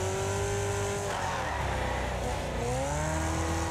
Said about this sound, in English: Oh, the engine in this car sounds great too.